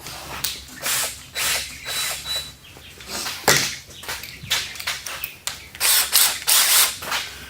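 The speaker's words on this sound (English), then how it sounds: "I'm going to get a screwdriver and take the one screw out of it" A screwdriver backs a screw out of a homemade plastic bucket chick feeder, making repeated close ratcheting clicks in short bursts, with chickens clucking faintly nearby.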